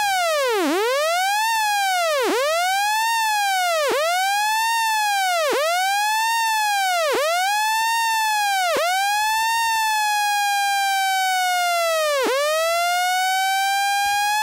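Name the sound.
synthesizer LFO with reshaped wave curve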